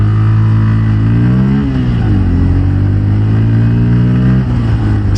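A Pulsar N160 Fi ABS motorcycle pulls off from a start, its engine loud and close, the tone climbing through a gear change and then holding a steady rising drone.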